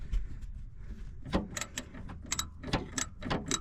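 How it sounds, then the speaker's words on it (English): A ratchet wrench clicks in short bursts while turning an extraction socket hammered onto a rounded power steering line nut, the close ratcheting repeated several times against a low background rumble. "ratchet down in there, got the socket hammered on. Try and bust her free."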